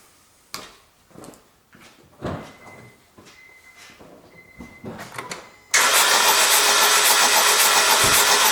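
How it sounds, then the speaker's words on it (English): A car engine cranks and catches during an ignition coil test, preceded by sharp intermittent clicks and snaps, then roars into a loud, steady idle close by. "next I go to start my car."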